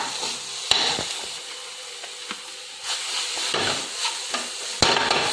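A spatula stirs and presses carrot barfi mixture with powdered milk in a pan, making soft scraping and sizzling with sharp knocks against the pan at irregular intervals.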